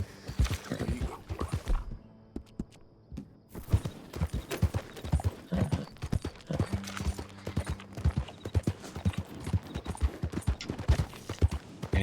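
Hooves of a horse in Red Dead Redemption 2 clip-clop steadily and close, with a brief whinny and other game sounds, and no talking.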